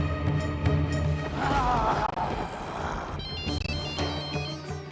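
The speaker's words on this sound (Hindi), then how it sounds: "घंटी तो जा रही है, लेकिन कोई फोन नहीं उठा रहा।" A phone rings steadily with a repeating electronic ringtone over background music, with no one answering.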